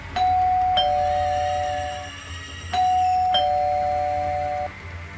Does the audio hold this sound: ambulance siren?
no